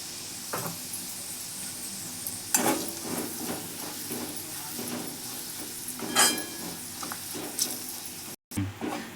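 Garlic frying in a pan with coriander powder, garam masala and turmeric, giving a steady close sizzle broken by several stirring scrapes and light clinks of a spoon against the pan, with no talk.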